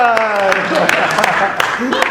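An audience at a Bible study session on Genesis claps for a participant, a few seconds of scattered, uneven clapping mixed with lively voices and laughter.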